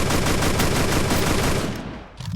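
Rapid automatic gunfire in the Free Fire video game rattles out as one loud, dense burst for about two seconds, then cuts off abruptly.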